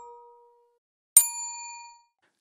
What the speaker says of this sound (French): On réécoute le bougeoir et la sonnette.